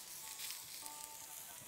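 Meat sizzling steadily in a hot pan as a Yorkshire kitchen cook keeps it moving until cooked through, a continuous soft hiss and crackle with no talking.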